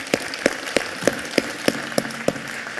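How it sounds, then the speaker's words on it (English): A few people clap at the DefenseWorks Fusion event, slow, evenly spaced claps landing about every third of a second over a quiet room. "how about a round of applause for DefenseWorks for setting up the Fusion event that we've got here today"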